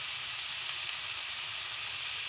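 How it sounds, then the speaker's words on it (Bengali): Vegetables sizzle and fry in a hot pan with turmeric during lunch cooking, a steady close hiss holding without break or voices. "এতে আমি এবার সবজিটা তুলে দেব। ভালো করে সবজিটাকে কষিয়ে নিতে হবে।"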